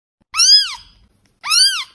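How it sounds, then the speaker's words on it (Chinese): A newborn kitten gives two thin, high, rising-then-falling meows, close and clear, separated by about a second of silence. "刚出生的小猫叫"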